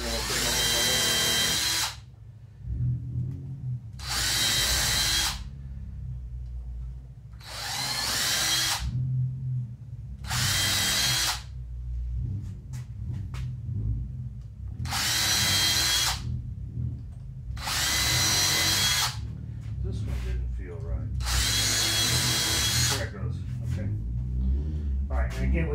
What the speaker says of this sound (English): These itty bitty drill bits, I suggest you get them out of there as soon as you stop drilling